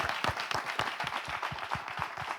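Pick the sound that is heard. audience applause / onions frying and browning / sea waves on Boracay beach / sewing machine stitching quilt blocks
audience applause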